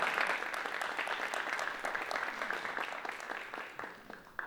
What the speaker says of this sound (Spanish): así que les voy a pedir un aplauso.